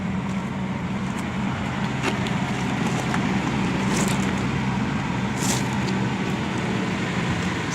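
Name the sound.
old truck engine running smoothly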